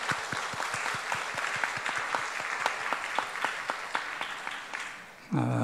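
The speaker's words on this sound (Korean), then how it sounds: "우리 힘차게 박수하겠습니다." Congregation applauding during a Sunday church service, a dense, steady wash of clapping with distinct sharp claps running throughout before it cuts off abruptly near the end.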